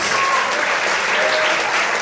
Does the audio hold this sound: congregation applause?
yes